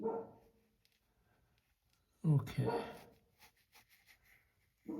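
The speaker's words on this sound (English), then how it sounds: "my dog's barking" A dog barks in a short burst partway through, fairly loud and near, indoors in a home where someone is painting in watercolor; a person speaks briefly before and after the barking.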